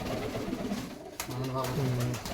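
Pigeons in a home loft coo in low, repeated murmurs close by, with people talking over and around them throughout.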